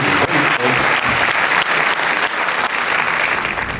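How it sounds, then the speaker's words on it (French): Sustained, loud audience applause for a 19-year-old contestant at an eloquence competition, dense steady clapping from a crowd throughout. "je vous demande de l'applaudir chaleureusement pour l'encourager"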